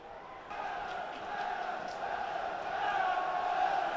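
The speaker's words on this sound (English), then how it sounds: "The crowd doing their bit" Football supporters at a Sunderland versus Shrewsbury match roar and chant, a dense crowd noise that swells steadily louder over a few seconds, heard from a distance.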